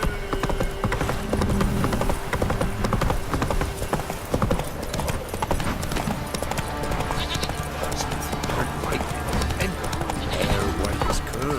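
Roach the horse gallops in The Witcher 3, with rapid, continuous hoofbeats close up, an occasional whinny, and busy game ambience layered underneath.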